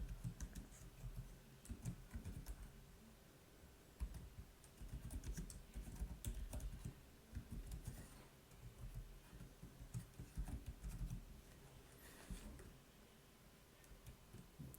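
Text is typed on a computer keyboard while setting up Code::Blocks. Quick, irregular bursts of soft key clicks and taps continue throughout at close range, with no talk.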